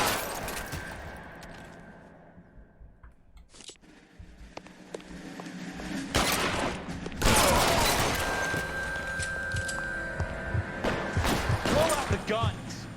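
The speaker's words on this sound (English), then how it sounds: "перестрелка" Gunfire rattles through a shootout in L.A. Noire, with bursts of loud, sharp shots and volleys separated by quieter gaps, over background game sound and music.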